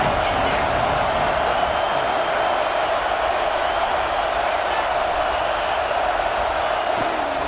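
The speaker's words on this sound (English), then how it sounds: "how nice is it to have the home crowd going absolutely bananas" A home crowd roars continuously in EA Sports College Football 26, a dense, steady stadium wash of cheering that stays loud throughout without breaks.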